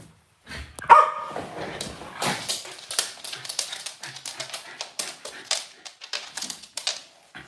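Dogs play indoors, with a few sharp barks followed by quick patter and tapping of paws and claws on the floor, close and irregular, and faint voices in the background.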